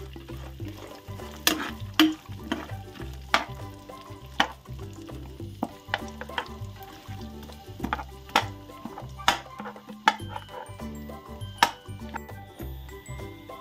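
Oil sizzles and crackles steadily as dry coconut fries alongside groundnuts, with scattered sharp pops and clinks from stirring throughout.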